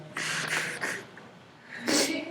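Several short, breathy sniffs through the nose, a quick cluster followed by one louder sniff after a pause, close to the microphone.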